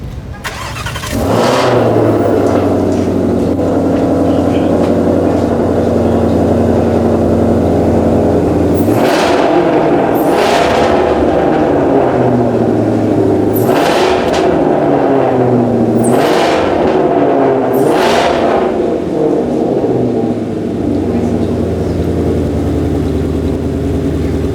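A 2022 Shelby GT500KR V8 engine cranks and fires up, then settles into a deep idle broken by several loud, sharp revs that rise and fall, close by.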